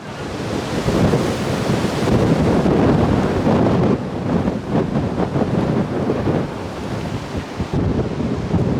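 Strong wind buffets the microphone in loud, roaring gusts that rise and fall beside a narrowboat, a rough, continuous rumble with no voices.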